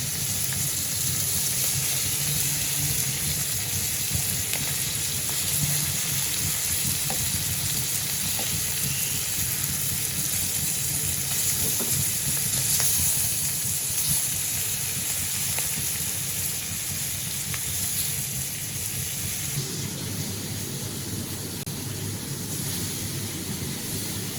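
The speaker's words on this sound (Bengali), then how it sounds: "ইলিশ মাছ ভাজি হয়ে গেছে" Hilsa fish frying in oil gives a steady, dense sizzle close by, continuous and even for the whole stretch, with no talking over it.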